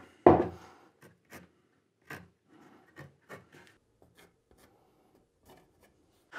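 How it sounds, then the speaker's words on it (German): A pencil marks dowel positions on a wooden workpiece in a workshop: one sharp knock at the start, then a sparse series of short, dry scratching strokes, close and fairly quiet, with no talking. "zeichne ich mir erst mal an, wo die Dübel tatsächlich dann rein müssen"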